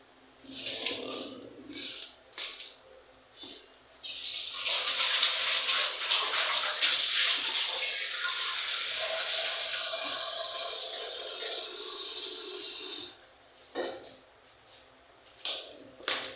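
Water pours from a tap for several seconds, a steady hissing gush in the middle, with brief clattering and rustling before and after.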